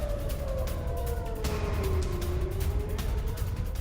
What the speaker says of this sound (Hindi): इंटरसेप्टर के टुकड़े गिरने से सेंट्रल इजराइल में बजे सायरन।